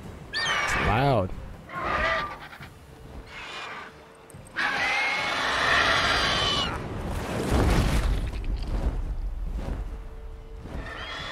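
A horse neighs loudly in a shrill, wavering whinny in The Witcher 3: Wild Hunt, followed by game sound effects and a second, rougher horse call amid rustling noise.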